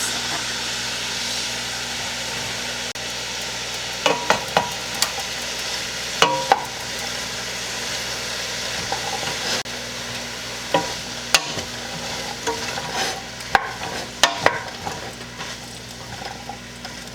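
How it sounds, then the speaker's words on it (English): Red bell peppers and onion sauteing in melted butter in a soup pot, giving a steady close sizzle with scattered clicks and scrapes of stirring. "we're going to add our red bell peppers and our onion to the pot and saute it for a good 10 minutes"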